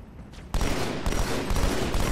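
Gunfire in the video game Halo 2, a sudden loud burst of rapid overlapping shots that begins after a quieter moment and continues densely to the end.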